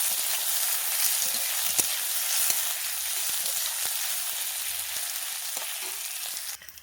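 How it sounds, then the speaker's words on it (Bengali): Onion sizzles steadily in hot oil, a dense continuous frying hiss with a few soft clicks of stirring, held close and even throughout until it thins out near the end. "পেঁয়াজটা তেলে দিয়ে দিয়েছি। পেঁয়াজটাকে লাল লাল করে ভেজে নেব।"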